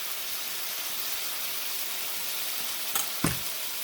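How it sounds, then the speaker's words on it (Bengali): Pancakes fry in a pan on a home stove with a steady, close sizzle throughout, broken near the end by two brief clinks of utensil on pan. "এবার প্যানকেকগুলো এদিকে ভাজি, হালকা আছে আস্তে আস্তে এটা হোক।"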